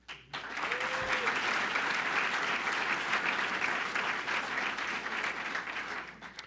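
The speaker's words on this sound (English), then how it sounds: "applause here for that." Applause from an audience at a hotel event in Dunkirk, New York, a sustained wash of clapping that rises quickly and stays full for about six seconds, with a brief voice heard at the start.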